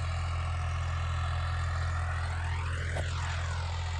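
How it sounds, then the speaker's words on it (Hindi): A Massey Ferguson MF 260 tractor engine runs steadily in a field during disc harrow work, a constant loud low drone with a passing higher whine sweeping by near the end. "आज मैं आप लोगों को दिखाने वाला हूँ जी ट्रैक्टर की परफॉर्मेंस 260 की MF की"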